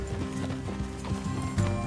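Horse hooves clip-clopping in Red Dead Redemption 2, several horses moving at a trot and then slowing, with a snort or whinny near the end over steady game ambience, fairly close.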